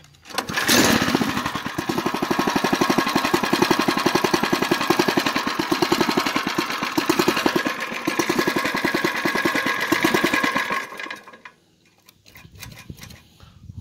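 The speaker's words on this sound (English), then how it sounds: "We'll put the choke on and give it a yank." A 79cc scooter engine, cold and on choke, fires up after a pull-cord yank and runs at a loud, rapid, steady putter for about ten seconds before dropping away, then sputters faintly.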